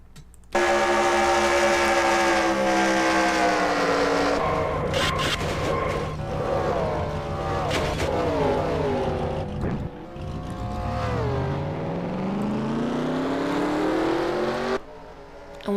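Race truck engines roar from onboard at Phoenix in a sim-racing truck series, with a loud sustained engine note that rises and falls through gear changes and revs and dips briefly near the end.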